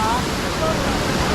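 A waterfall in Wayanad, Kerala, seen from a viewpoint, pours out a steady, loud, broadband rush of white water with no letup.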